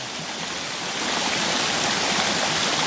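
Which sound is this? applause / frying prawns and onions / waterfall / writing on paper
waterfall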